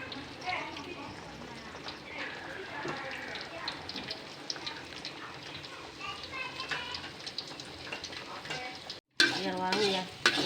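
Blended spice paste sautés and sizzles in leftover chili-frying oil, a steady crackling fry with stirring scrapes throughout before a brief gap and a louder burst near the end.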